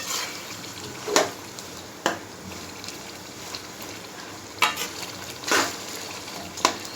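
Chicken masala for a gravy layer biryani frying in a pan: a soft, steady sizzle with several sharp scraping stir strokes at irregular intervals, fairly quiet and close, with no talking.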